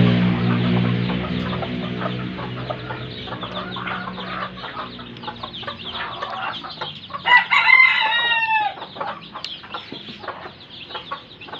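Chickens cluck steadily nearby, and partway through a rooster crows loudly over the flock.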